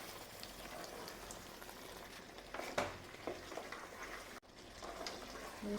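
Beef being stirred in a cooking pan gives a low bubbling sizzle with scattered scrapes and clinks of the spoon, quiet and close, with a brief gap partway through.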